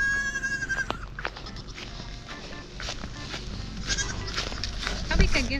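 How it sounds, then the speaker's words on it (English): A goat bleats on a farm with chicken pens nearby. Several wavering bleats come near the start, then softer ones, over outdoor rustling, footsteps and faint voices. "Passing the goat."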